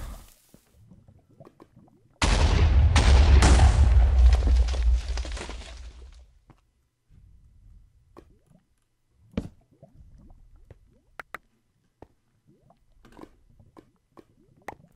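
An explosion in the video game Minecraft: a sudden loud, heavy blast that rumbles for about four seconds, then fades into quiet scattered clicks and taps.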